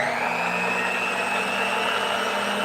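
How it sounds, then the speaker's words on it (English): An electric knife sharpener run at its top speed of 10 gives a steady, high-pitched motor whine like a blender, holding an even tone throughout without talk. "it sounds like a blender"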